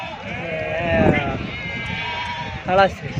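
Sheep and lambs bleat loudly and close by at a sheep and goat market in Gudur, with lambs loaded on a vehicle, their wavering cries rising over crowd chatter and people talking.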